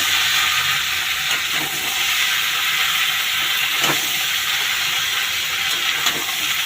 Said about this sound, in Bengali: সব আলাদা আলাদা ভাজা ছিল, সব একসাথে ভেজে নেওয়া হয়েছে। এখন আবার আলাদা কষা করে নিচ্ছে।